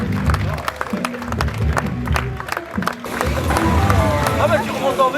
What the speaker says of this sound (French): Une nouvelle fois, des applaudissements pour notre podium.